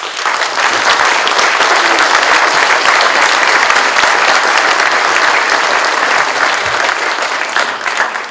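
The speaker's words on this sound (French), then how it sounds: "Et on peut les applaudir." Loud, sustained applause from the crowd at a mayor's New Year address honours the firefighters and municipal police, a thick continuous wall of clapping lasting the whole stretch.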